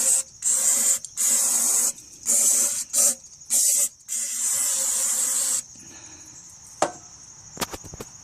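Aerosol can sprayed into the spark plug hole of a Briggs & Stratton 16HP opposed twin engine, several loud hissing bursts of varying length in an uneven rhythm, then a fainter steady hiss and a few sharp clicks.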